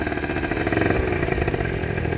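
An MBK Booster 70 scooter fitted with a Malossi kit and a new carburettor accelerates hard, its small two-stroke engine buzzing loud and close with a rising, rattly rasp throughout.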